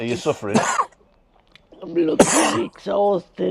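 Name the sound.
sneeze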